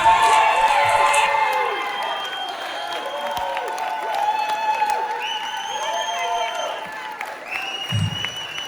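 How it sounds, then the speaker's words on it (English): A live audience at a talent show grand finale applauds and cheers, with whoops and shouts over clapping that gradually thins, mixed with some voices and tonal sounds. "A round of applause, guys"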